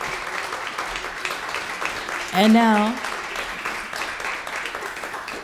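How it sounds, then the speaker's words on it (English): Concert audience applauding at the Historic Cadillac Hotel, a steady wash of clapping running throughout beneath a voice speaking and briefly rising in pitch. "Now we may applaud."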